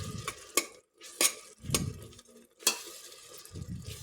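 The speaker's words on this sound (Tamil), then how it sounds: "நல்லா வதங்கிட்டுறோன்னு திருப்போம்." Ground masala with onion and tomato sautés under a soft sizzle while a spoon stirs and scrapes the pan in repeated rhythmic strokes, close and distinct.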